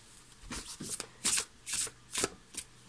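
Oracle card deck shuffled by hand, quick soft riffling bursts repeating about every half second, close and quiet with no talking.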